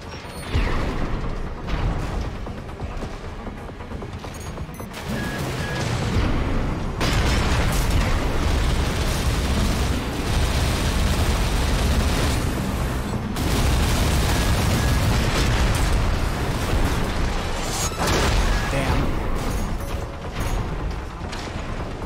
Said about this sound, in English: that missile just came back and hit me.